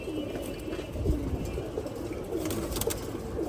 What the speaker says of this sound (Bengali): মাশাআল্লাহ এগুলো সব মাদি কবুতর।